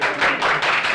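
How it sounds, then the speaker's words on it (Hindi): A few quick claps from an audience at a school prize distribution as a winner is called up, a short burst of close, sharp hand claps. "सुमित मंडल चले आओ और इनके लिए हो जोरदार तालियां।"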